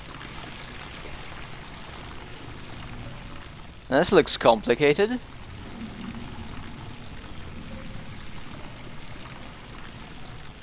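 Water runs from a pipe in the video game INFRA as a faint, steady stream under the scene, briefly covered by a short spoken remark midway.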